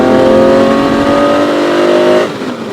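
A Le Mans-winning Ferrari 275 GTB Competizione engine revs up loud and close with a rising, tonal roar, then drops sharply as the throttle lifts near the end.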